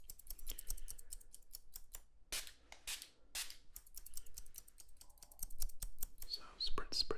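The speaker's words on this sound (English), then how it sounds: "you can see why these scissors are fine tuning. They have a finer noise to them" Fine-tuning hair scissors snip through hair in quick close crisp runs, with brief pauses and a few louder bursts, soft and intimate.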